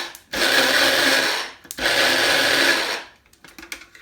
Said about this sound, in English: I'm going to transfer the seeds a half at the time about into the grinder